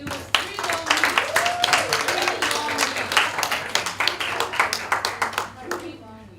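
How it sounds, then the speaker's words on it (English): Audience at a metabolomics workshop closing ceremony claps steadily throughout, dense overlapping hand claps from a nearby crowd with a few voices mixed in. "Give yourselves a round of applause because it was 3 long weeks."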